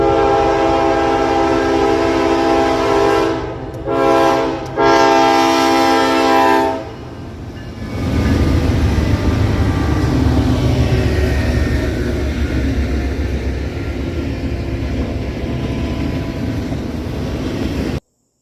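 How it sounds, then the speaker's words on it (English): A Norfolk Southern intermodal freight train passes close by, opening with loud sustained horn blasts broken by short gaps, then a steady heavy rumble and rattle of rail cars rolling past for the rest of the clip. "I think I hear the train coming now"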